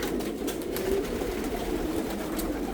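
Young pigeons in a large homing and meat pigeon loft make a low, steady murmuring coo that runs continuously, close and moderately loud, with a soft ambient rumble beneath.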